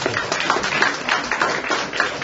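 Applause from the audience at a panel discussion, a dense, even patter of many hands clapping throughout, slightly muffled and thin in tone.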